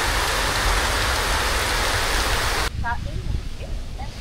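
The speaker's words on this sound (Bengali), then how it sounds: "এখানে প্রচণ্ড বৃষ্টি হচ্ছে" Heavy rain pours down near a building in Pubail, Gazipur, Bangladesh, a dense, loud hiss for the first few seconds before abruptly thinning to lighter rain with a few faint chirps.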